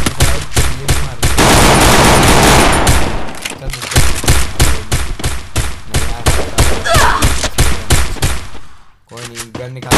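Dense gunfire from the Free Fire mobile battle royale game, rapid repeated shots and bursts running almost continuously, loud and close, with a player's voice talking over the shooting.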